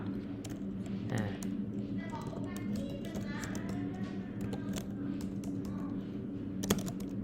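Continuous clicking of a computer keyboard during data entry, quick uneven keystrokes running throughout beneath someone talking and faint children's voices in the background.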